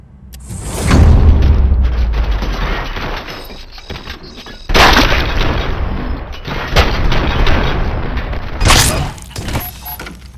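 Gunfire in the RoboCop: Rogue City video game: loud, heavy booming shots in several bursts, each with a sharp attack and a long reverberant tail, standing alone without talk.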